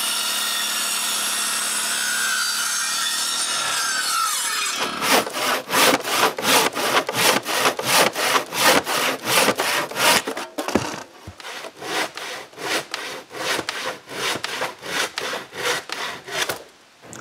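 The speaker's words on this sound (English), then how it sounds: "I can cut the braces." A handsaw cuts through wooden braces for a cottage woodshed in steady back-and-forth strokes, loud and close, each rasping pass evenly spaced, after a few seconds of louder mechanical whirring at the start.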